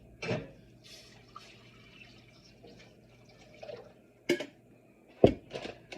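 Water goes into a pot for a homemade herbal tea with hibiscus and damiana: a few brief splashes and scattered drips, quiet and close, separated by near silence.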